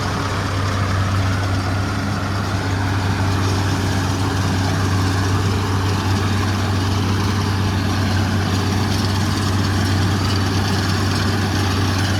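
An old Allis-Chalmers tractor engine idles with a steady, low rumbling drone that stays constant throughout.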